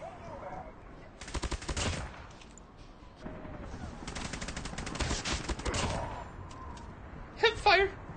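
Automatic weapon fire in the Call of Duty Mobile shooter, two rapid bursts of close gunshots separated by a quieter stretch, with a short sharp volley at the end and game voices between.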